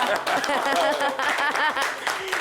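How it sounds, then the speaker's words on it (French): Studio audience claps on a French-language talk show, scattered hand claps mixed with laughter and voices talking over them throughout. "applaudissez"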